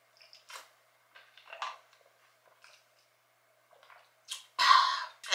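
A person with braces sips a little water and swallows, faint wet mouth sounds followed by a louder gulp near the end, heard alone without talk.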